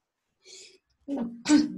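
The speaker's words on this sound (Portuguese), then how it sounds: "Desculpa, gente, estou espirrando." A person sneezing during a geography lesson, a faint breathy intake followed by two short explosive bursts, close and fairly loud, with no words spoken.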